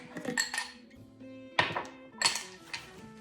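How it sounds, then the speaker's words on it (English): Ice cubes clink and rattle into a glass jar in a cloud-in-a-jar experiment, coming in two or three quick bursts of bright, close clattering with quieter gaps between them. "I'm gonna put ice cubes back into the jar."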